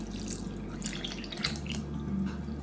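Almond milk pours into a mixture of seasoning and shredded cheese, a close, continuous liquid trickle with small splashy drips and no talk.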